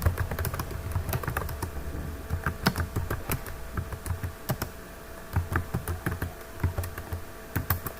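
Irregular bursts of keystrokes on a computer keyboard, close and fairly loud, with short pauses between runs of typing while an address is entered into an invoice form.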